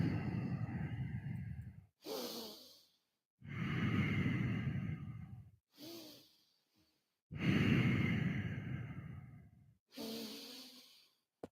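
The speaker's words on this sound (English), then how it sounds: "Get the ujjayi pranayam in the lungs, feel the texture of the breath" Slow ujjayi breathing during a yoga flow: three long, loud, breathy rushing exhales alternate with shorter, higher airy inhales at close range, each separated by brief silence.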